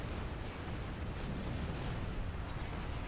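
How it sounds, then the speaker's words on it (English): A low, rumbling explosion from Star Trek Online rolls on continuously at a moderate level, a muffled roar with no distinct sharp onset. "Kaboom."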